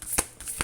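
Oracle cards being shuffled give two quick, close riffling bursts in under a second.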